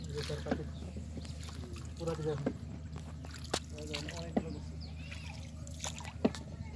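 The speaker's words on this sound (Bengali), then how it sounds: "এখন আমরা নৌকা করে যাচ্ছি যেহেতু বর্ষাকাল প্রচুর পানি" A boat moves across monsoon floodwater about six feet deep, with soft sloshing and trickling water under frequent nearby talk, punctuated by occasional knocks and splashes.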